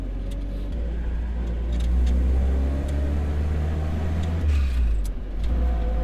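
A restored WW2 Willys jeep drives along a road, its engine rumbling steadily and swelling as it shifts up through the gears, with occasional brief voices inside the vehicle.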